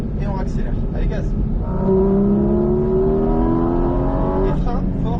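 A Porsche GT4 RS accelerates hard on the Mettet race circuit, its engine note climbing steadily in pitch close to the listener, with a voice talking over the start and end of the run.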